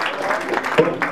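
Applause at a Golzowtag village festival, a short burst of clapping from the crowd that swells briefly before fading out.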